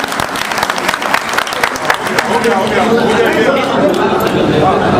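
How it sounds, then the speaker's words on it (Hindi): Crowd applause greeting a minister being welcomed with garlands at a public event, dense clapping that continues beneath a man's amplified speech. "तालियों के साथ उनका स्वागत कर रहे हैं।"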